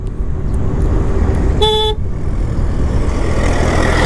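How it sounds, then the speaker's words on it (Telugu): A single short, high horn beep from an OLA S1 Air electric scooter sounds once over a steady rumble of road and wind noise while riding. "హార్న్కి అలవాటు అవ్వడానికి కాస్త టైం పడుతుంది"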